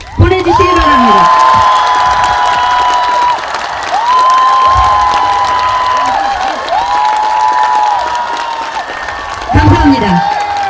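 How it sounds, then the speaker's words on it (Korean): A large crowd of supporters at a presidential campaign rally for Han Dong-hoon claps and cheers loudly, with whoops, shouts and rising whistle-like calls over sustained applause that dips briefly and swells again. "한동훈 전 국민의힘 당대표에게 큰 박수를 보내주시기 바랍니다"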